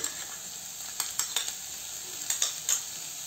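Green and red bell peppers with onion frying on high heat in a pan, a steady soft sizzle broken by several sharp stirring scrapes and clicks, close by with no talking.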